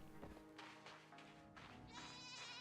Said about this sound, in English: Had the goat stopped screaming, Clarice?